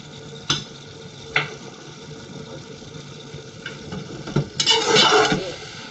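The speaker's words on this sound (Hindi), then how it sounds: "इसको हिला लेंगे।" Mixed vegetable curry with potatoes being stirred in a pan: a few distinct scraping clinks of a spoon against metal, then a louder burst of stirring and sizzling near the end, over a low steady background hum.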